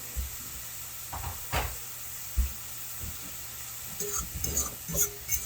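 Freeze-dried ground beef being stirred into onions frying in a pan, a soft continuous sizzle broken by several scrapes and knocks of a utensil, busier near the end, close and fairly quiet, with no speech.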